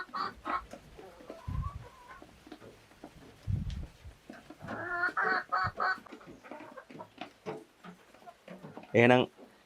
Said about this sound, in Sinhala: ඔක්කොම ඉන්නවා මෙතන කිකිලියෝ මරි 20 ගාණක් ඉන්නවා